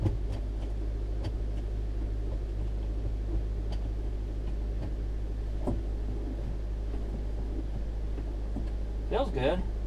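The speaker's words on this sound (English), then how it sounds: "we're going to go take a drive with this thing" A Honda Element with a newly replaced clutch slave cylinder drives on the road, its engine and road noise forming a steady low droning hum heard from inside the cabin, with faint clicks and a voice at the end.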